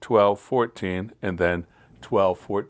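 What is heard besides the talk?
No distinct noise like a dog, phone or traffic.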